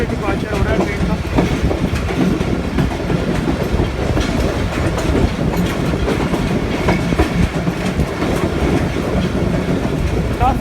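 Karachi Express passenger train led by a GEU40 diesel locomotive departing Rohri Junction in Sindh, a loud, continuous close rumble with rhythmic clickety-clack of wheels over rail joints.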